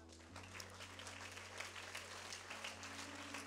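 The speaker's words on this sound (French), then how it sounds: "Applaudissons l'Éternel." Congregation applause at a French-language church service: steady, dense clapping from many people that runs throughout, with a low hum beneath and no talk over it.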